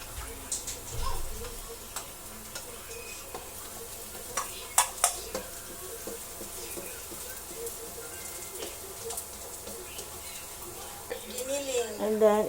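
Onions and garlic sautéing in a pan for ginisang ampalaya, with a steady soft sizzle under stirring and scraping, sharper clinks of the utensil near the middle and livelier frying toward the end.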